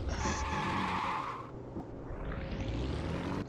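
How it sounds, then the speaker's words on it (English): The rear tires of a Porsche in a racing game squeal as they lose grip, a bright screech over a loud engine that fades out, then a rising engine note as it pulls away. "did you hear the tires light up? Yeah, there's no grip in the back"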